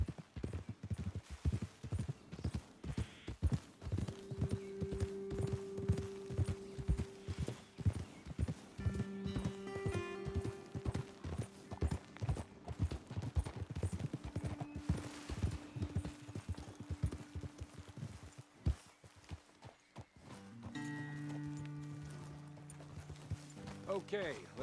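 Horses' hooves clip-clop steadily in Red Dead Redemption 2 as riders travel up a trail toward a ledge over a road, the rhythmic footfalls running throughout beneath talk and background music.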